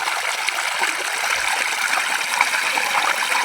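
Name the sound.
water pump pouring water into paddy field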